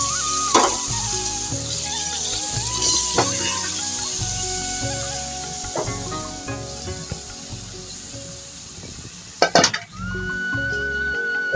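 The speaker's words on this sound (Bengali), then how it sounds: "মশলা দিয়ে শুটকিগুলোকে কষিয়ে নিলাম। এখন আমরা সবজিগুলো দিয়ে দেব।" Dried chela fish frying with spices and vegetables in a pan, a loud continuous sizzle broken by sharp utensil scrapes and clatters against the pan, with a faint tonal background running underneath.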